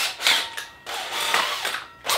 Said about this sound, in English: To drill that hole, I've got a hole saw with my little Makita drill.